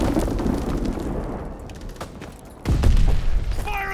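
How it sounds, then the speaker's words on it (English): A loud bomb blast in Call of Duty WW2 team deathmatch lands about two-thirds through, a sudden heavy boom after a stretch of rumbling battle noise and scattered gunfire. "Enemy bomb incoming."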